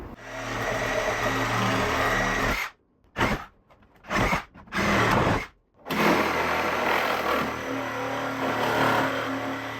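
A power tool cuts away rotted supports in an old cottage garage, roaring loudly and continuously with several brief stops midway before resuming.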